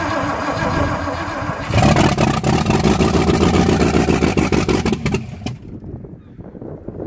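Small-block Chevy V8 in a BMW E36 drift car cranking and catching on its first start, settling into a loud, lumpy, rough idle up close before cutting off abruptly.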